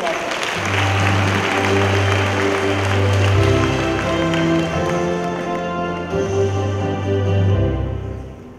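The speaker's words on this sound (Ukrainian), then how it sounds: "Оплески" A crowd claps steadily in a broad wash of applause, with sustained low musical tones playing underneath throughout, at a university welcome ceremony for first-year students.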